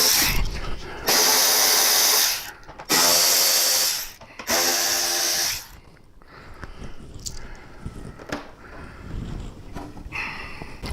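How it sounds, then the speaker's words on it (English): Power screwdriver backing out screws from the outer fairing of a Harley-Davidson Road Glide, three loud whirring bursts of a few seconds each, then quieter handling clatter. "We're going to start right here by removing these 4 screws."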